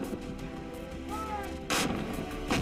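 Artillery cannons fire during the Kargil war in the mountains, one heavy boom near the middle followed by another at the end over a rumbling, noisy backdrop.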